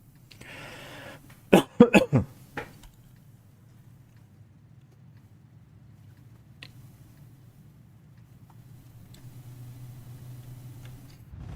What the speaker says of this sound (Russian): Сегодня опять кашлять начал